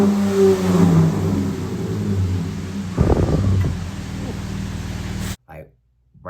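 A Dodge Charger with a resonator delete idles and then revs sharply with a deep rumbling exhaust, close by, before cutting off abruptly.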